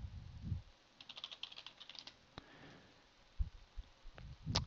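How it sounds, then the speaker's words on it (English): Fingers tap on a computer keyboard in quick, close bursts of light clicks, with pauses between runs and a few louder isolated key presses in a quiet room. "And here I will type Firefox download"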